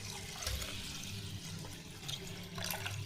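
Water pours and splashes into a vessel of washed rice and urad dal set to soak for idli batter, a steady running trickle with a couple of louder gushes, close by, no talk.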